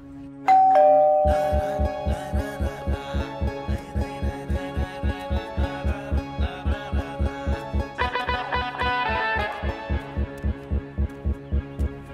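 A two-tone doorbell chime rings at the start, then a steady throbbing heartbeat-like pulse continues under melodic music tones.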